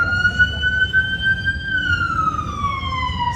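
A wailing siren with a steady, slowly falling tone holds for the whole stretch over a low rumble, loud and fairly close, with no talk.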